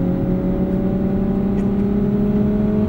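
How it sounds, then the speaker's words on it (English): Synthetic engine sound piped into the cabin of a 2023 Lexus UX 250h F Sport Handling AWD hybrid while accelerating, a steady loud droning hum with sustained tones and no talk. "That is the funniest thing I think I've ever heard with regards to, like, fake engine noise."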